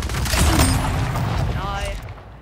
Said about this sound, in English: Ooh, rocket launcher again, bro.